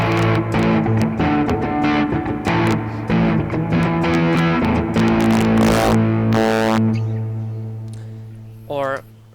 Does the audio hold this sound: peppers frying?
no